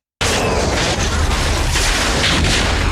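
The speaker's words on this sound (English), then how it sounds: "Oh, airstrike inbound. Oh, that's napalm, right?" A napalm airstrike explosion in the 1994 film Forrest Gump erupts suddenly after a moment of silence and holds as a loud, sustained roaring blast with rumbling bursts throughout.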